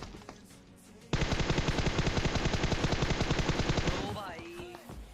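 In a shooter video game, a sustained burst of rapid automatic gunfire sprays loudly for about three seconds as evenly spaced rattling shots, then trails off into ringing game effects.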